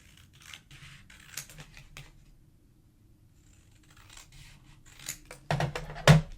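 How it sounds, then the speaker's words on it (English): Scissors cutting paper for book binding, a few quiet snipping cuts spread across several seconds, close, ending with a louder crisp snip. "I'm just going to mark it here so that I can just cut it with my scissors."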